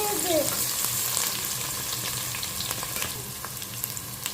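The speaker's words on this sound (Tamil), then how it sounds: "கோல்டன் கலரில் வெங்காயம் வதங்கிட்டுருக்கு நல்லா" Sliced onions frying steadily in a pan for prawn biryani, a constant broadband sizzle with light crackles and an occasional stir, close and fairly loud with no talking.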